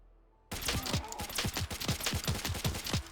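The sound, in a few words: gunfire in video game Fallout 4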